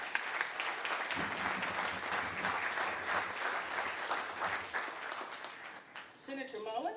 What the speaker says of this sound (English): we would like to give a round of applause to Senator Langford